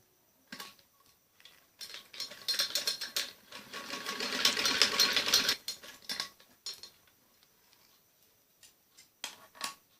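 A sewing machine stitches a strip onto a frock in short bursts, a longer steady run in the middle, then a few brief stops and starts, fairly close, with no talking.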